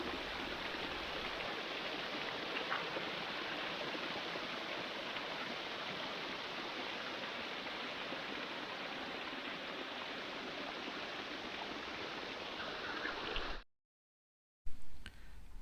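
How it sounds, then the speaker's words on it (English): Ice-cold spring water flows steadily in a winter forest near Heidelberg, a soft continuous trickling rush that stays even throughout, broken by a short silent gap near the end. "There's another spring that has ice-cold water."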